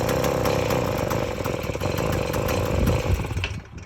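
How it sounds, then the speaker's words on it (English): A vintage Tomos moped with a carburetor fault runs at a rough, steady idle with a buzzing mechanical drone, barely picking up when throttled before fading near the end; close, with no talk. "adjusting the carb, and then it barely responds to the throttle"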